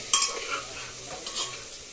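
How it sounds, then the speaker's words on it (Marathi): Fenugreek leaves are stirred and fried in oil in a pan, with a soft scraping stir and a gentle sizzle under a few light utensil clicks, close and moderately quiet. "हलवून जरा थोडी तळली ना तेलामध्ये."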